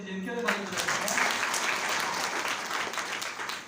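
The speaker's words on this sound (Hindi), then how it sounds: "ताली बजा दीजिए इनके लिए, ताली बजा दीजिए।" An audience in a Hindi church gathering breaks into applause, a dense, even clapping that swells quickly and holds steady for a few seconds.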